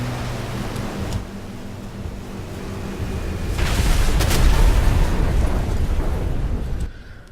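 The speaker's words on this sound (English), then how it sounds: "let's just see what happens with a bomb drop. Bombs definitely sound louder." Bomb drop explosions in the combat video game War Thunder, a loud rumbling blast building over several seconds into a dense, roaring burst before cutting off, with no talking.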